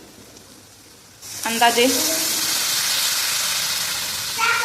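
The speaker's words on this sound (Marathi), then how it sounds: "आता यामध्ये घालायचं आहे दूध" Milk poured into a hot pan of sabudana for caramel kheer, a sudden loud hissing sizzle that starts after a quiet moment and stays steady, with someone speaking briefly.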